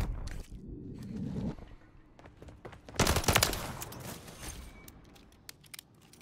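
Gunfire in Call of Duty: Modern Warfare III, with scattered distant shots and then a loud close burst of rapid fire in the middle that trails off into softer shots and movement.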